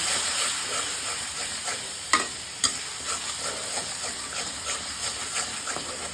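Spice paste for a taro curry sizzles steadily in hot oil, a bright continuous hiss with a couple of sharper spatula scrapes and knocks as it is stirred, close and alone with no voices.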